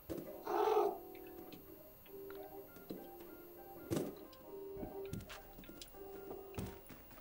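A cat meows in the video game Stray, with a short loud cry near the start and a softer call midway, set against quiet game ambience and small clicks.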